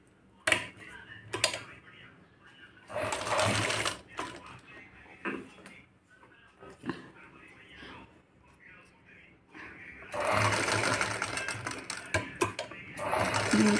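Sewing machine stitching a potli button onto a blouse neck in short bursts of rapid mechanical whirring, separated by pauses and light clicks, with someone talking in between.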